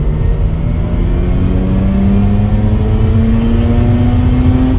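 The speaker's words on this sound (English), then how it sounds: "It's crazy how smooth it revs." A warmed-up Mazda RX8 rotary engine pulls hard through second gear, its smooth, steadily rising whine climbing in pitch across the whole stretch, loud and close with no talking.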